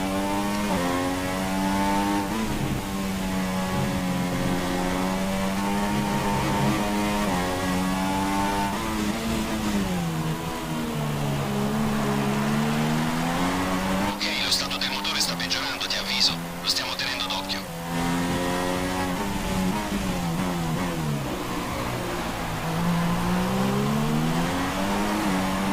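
Simulated F1 race car engine in F1 2016 at the Bahrain Grand Prix, suffering a fault with no power into eighth gear; a loud, continuous whining drone rises and falls with revs while a voice talks over it.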